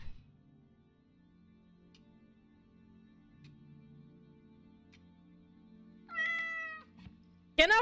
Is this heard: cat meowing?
yes